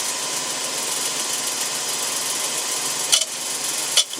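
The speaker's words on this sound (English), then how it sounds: "Try and get a finishing cut now on the inside with this bowl gouge." A wood lathe spinning a dry bowl blank while a 3/8 bowl gouge takes a finishing cut inside it, a steady whirring hum with hissing shavings, broken by two brief sharp scraping bursts near the end.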